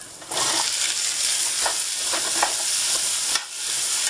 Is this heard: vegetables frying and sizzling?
yes